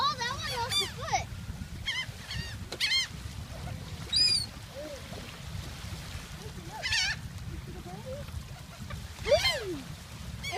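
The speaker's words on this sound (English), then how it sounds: "Birds! Birds are everywhere." Flock of birds being fed at Long Beach: gull-like squawks and honking calls scattered throughout, some close and loud, over steady outdoor noise, with people talking in the background.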